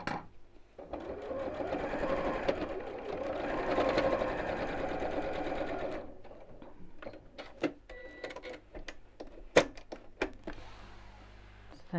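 A sewing machine top-stitches along the webbing of a bowling bag in a steady whirring run of about five seconds, followed by fabric handling, clicks and taps close by.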